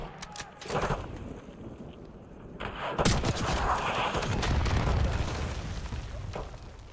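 Sniper gunfire in the Call of Duty: Black Ops 6 campaign, a few loud sharp shots with booming tails and rumbling echoes over ongoing battle noise.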